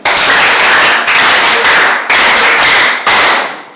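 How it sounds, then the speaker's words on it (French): Students in a French oral-language training class applaud together, loud close rhythmic clapping in several synchronized bursts with short breaks between them. "Nous allons applaudir ces trois élèves qui viennent de dire les mots de salutation."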